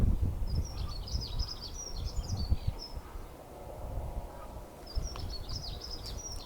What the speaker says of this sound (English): I listen to that beautiful bird singing there.